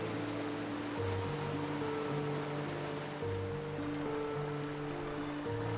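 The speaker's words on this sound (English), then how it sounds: "Here the river tightens and pours over a wide limestone ledge in one solid sheet" A wide river pours over a broad limestone ledge in one solid sheet, heard as a steady, dense roar of falling water with no voices, at a waterfall in the Canadian Rockies.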